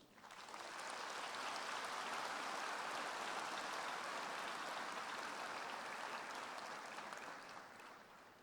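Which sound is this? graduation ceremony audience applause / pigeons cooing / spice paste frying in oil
graduation ceremony audience applause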